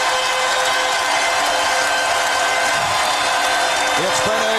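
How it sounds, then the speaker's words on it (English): Basketball arena crowd at the 2001 NBA Finals, Lakers versus 76ers, giving Allen Iverson a standing ovation: a dense, loud, continuous roar of cheering and applause filling the whole stretch, with a commentator talking over it. "Standing ovation for Iverson"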